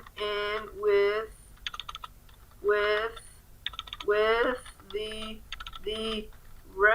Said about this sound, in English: This keyboard is bad for typing.